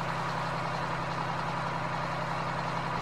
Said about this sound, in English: The Jake in this truck definitely does not take very long to slow this truck down